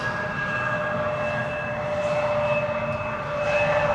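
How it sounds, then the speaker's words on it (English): A KLM Embraer 175 jet produces a steady engine whine with sustained high tonal hums over a low rumble, fairly loud and continuous, swelling slightly near the end, with no talking. "Embraer 175, KLM flight 1164."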